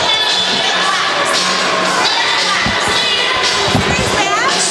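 Young hockey players, a 14U AA youth team, let out a loud, continuous group cheer as they huddle around their net at an ice rink, with shouting voices overlapping throughout.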